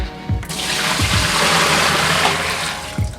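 Dirty hair-rinse water is poured off from a container in a steady, loud gushing splash that runs continuously, with a few knocks and clunks at the start and end.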